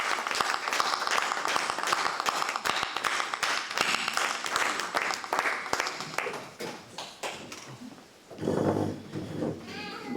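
An audience claps together at a dinner and musical party, a dense, sustained round of applause up close that thins out, then swells again briefly toward the end, with a few voices mixed in.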